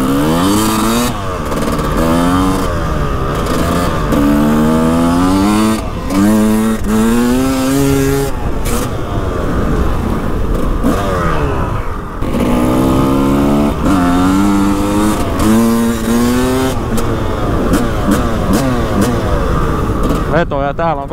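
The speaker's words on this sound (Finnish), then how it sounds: "Kawasaki on kuitenkin ihan hyvää mopo" A Kawasaki moped engine revs repeatedly, rising and falling whines in close succession, loud and continuous, with voices talking over it.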